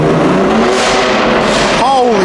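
Stage 2 tuned BMW M4 accelerating hard inside a tunnel, a loud, dense engine roar with echoing reflections that rises in pitch and briefly shifts near the end.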